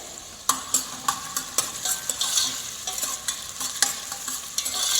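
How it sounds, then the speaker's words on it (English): Bacon sautéing in a pan for tomato sauce, giving a close, bright sizzle broken by a steady series of sharp scraping clicks from stirring, with no speech. "After that, a little bit sauteing of the bacon happens."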